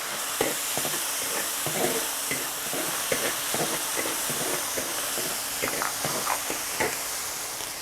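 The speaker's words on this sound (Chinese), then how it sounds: "锅里倒入菜籽油，腌过的肉倒到那个里面炒" Marinated minced meat stir-fries in rapeseed oil in a wok, a steady close hiss and sizzle broken by frequent scraping stirs of the spatula, with no talking.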